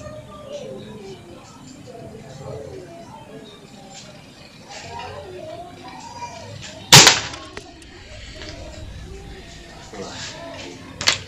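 A single sharp crack from a Black Hawk 5.5 air rifle firing at a 20 m target, loud and close, midway through, with someone talking quietly around it and a faint click near the end.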